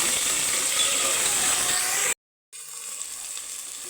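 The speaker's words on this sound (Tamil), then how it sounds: "தக்காளியும் மிளகாயும் போட்டு" Tomatoes and chillies sauté in a pan for beetroot rice, giving a steady, close sizzle that cuts out briefly and then carries on more quietly.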